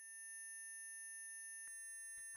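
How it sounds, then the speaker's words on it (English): A steady, high electronic ringing tone from the Chaos;Child visual novel holds alone and unbroken, with a couple of brief faint clicks near the end. "Why was I hearing this ringing and nothing else?"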